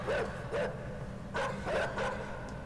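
A dog barks in short, faint bursts at an uneven pace in the video game INSIDE, two pairs of yaps with quiet ambience between them.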